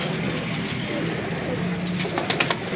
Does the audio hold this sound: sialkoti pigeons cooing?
yes